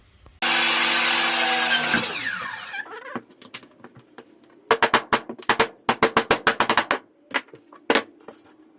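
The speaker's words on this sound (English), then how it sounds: "we're gonna cut these with a chop saw" A chop saw spins up and cuts wood pieces for a cheap workbench upgrade, giving a loud whining cut that winds down, then a string of sharp knocks and clatters as the pieces are handled, with no talking.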